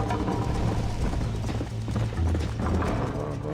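Horse hooves gallop in a steady clip-clop rhythm in the Red Dead Redemption video game, loud and continuous over a dense layer of game sound, with no talk.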